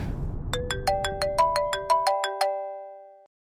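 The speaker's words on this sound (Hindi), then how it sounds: "आ गया फोन।" A phone ringtone chiming a bright, rapid sequence of bell-like tones over a faint low rumble, then fading away after about three seconds.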